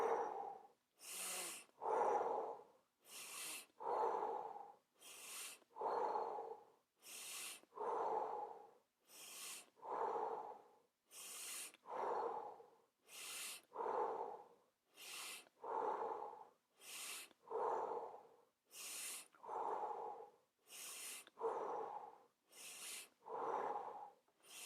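Deep rhythmic breaths during a breathwork exercise, about fifteen full inhale-exhale cycles in steady succession, each breath close and clearly audible, with no talking over them.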